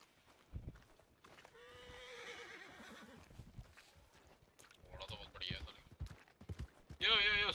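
A horse whinnies loudly with a drawn-out neigh in Red Dead Redemption 2, followed by hoof clops and snorts, with game-like sound effects at the end.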